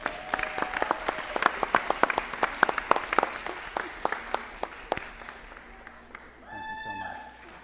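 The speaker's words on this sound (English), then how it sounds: "Let's do a collective round of applause now." A school district audience applauds honorees, with distinct individual claps spread out and irregular, loud and near, tapering off before a brief burst of feedback or a tone near the end.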